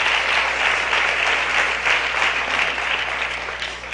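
Steady, dense applause from a crowd at a live Resurrection celebration in Tzucubal, Nahualá, clapping continuously at an even loudness throughout with no voices standing out.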